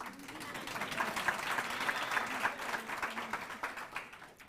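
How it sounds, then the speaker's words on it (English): An audience claps steadily at a youth environmental conference, a sustained room-filling round of applause with some voices mixed in. "You can clap hands."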